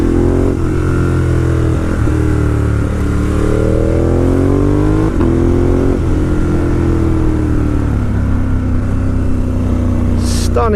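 Several motorcycles, including Ducati, KTM, Aprilia, BMW and Honda machines, ride down a winding Spanish mountain road, a loud steady engine drone with rising and falling pitch as riders accelerate, continuous and close throughout.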